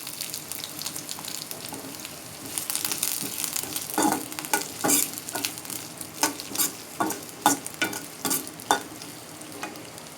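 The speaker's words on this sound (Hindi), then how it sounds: "ये अब मैं प्याज शामिल कर रही हूँ इसमें। ये भी हम हल्का सा फ्राई करके और फिर से भी निकाल लेंगे।" Onions fry lightly in a pan with a steady sizzle, joined midway by a run of sharp, rhythmic scraping stirs from a spoon, moderately close and with no voices.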